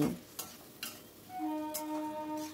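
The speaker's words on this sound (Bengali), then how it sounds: "দিয়ে সব কিছু ভালো করে মিশিয়ে নিচ্ছি" Spatula stirring fried garlic cloves into a dish in a pan, with a few quiet scraping strokes and clinks over a soft background sizzle, close and faint, with a faint tonal hum entering midway.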